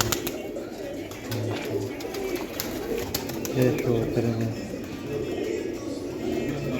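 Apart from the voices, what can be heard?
golden pigeons cooing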